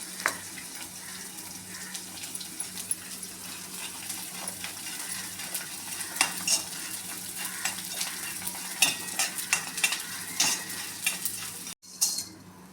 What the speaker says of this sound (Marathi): तूप गरम झालेलं आहे, थोडा थोडा आता डिंक आपण याच्यामध्ये तळून घेऊया।